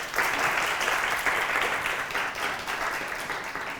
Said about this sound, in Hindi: अयाद के लिए तालियां तो बजाइए आप लोग